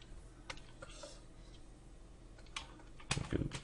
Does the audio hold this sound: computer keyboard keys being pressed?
yes